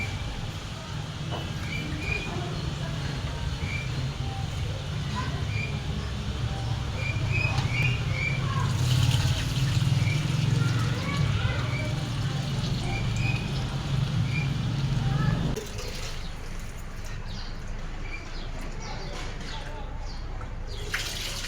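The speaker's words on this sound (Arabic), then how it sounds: "شايفين غسلت الرز خليه زي الفل ازاي" Rice washed under a running kitchen tap gives a steady hiss of flowing water with soft swishing and clinks, continuous for a long stretch before the flow quiets near the end.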